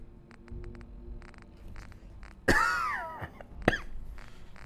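One person coughs hard two times, close and loud, after quiet faint background game sounds, with no speech.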